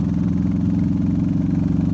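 Royal Enfield Meteor 350 single-cylinder engine fitted with a DNA air filter, pulling steadily at 50 in fifth gear, a continuous low throbbing exhaust note, close and even, with no talking.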